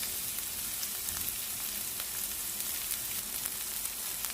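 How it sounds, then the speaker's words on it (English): Sliced onion hits about two tablespoons of hot oil in a pan over high heat for egg fried rice, a dense, even crackling sizzle that holds steady throughout with scattered sharp pops, close and fairly loud. "Then I'm going to add in my onion, and sliced onion"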